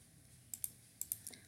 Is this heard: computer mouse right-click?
yes